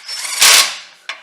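Wheel spacer nuts on a Nissan Navara NP300 being tightened with a socket: a short ratcheting mechanical burst, close and fairly loud, then a brief second click.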